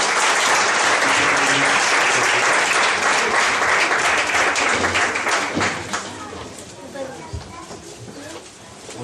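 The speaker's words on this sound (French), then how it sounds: "On va acclamer très fort le Seigneur" A church congregation claps and cheers loudly to acclaim the Lord, dense sustained applause that fades after several seconds, with voices mixed in.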